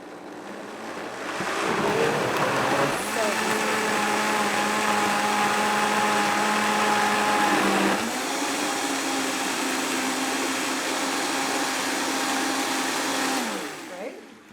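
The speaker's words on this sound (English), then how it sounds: "But then we're just going to blend it up." A blender runs continuously to purée roasted root vegetable soup, a loud steady motor whir that shifts pitch partway through as the contents thicken, then winds down at the end.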